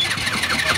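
A car engine revs briefly as the accelerator is pressed lightly, a steady mid-pitched engine hum that swells slightly, close and loud throughout.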